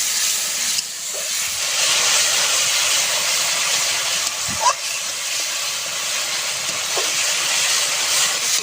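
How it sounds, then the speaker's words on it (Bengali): Spice paste of turmeric powder and a splash of water frying in hot oil, a steady broadband hiss and sizzle throughout with a few brief clinks of stirring, no voices. "একটু জল দিয়ে দেব, হলুদ গুঁড়ো, সুন্দর করে মশলাটা কষিয়ে নেব।"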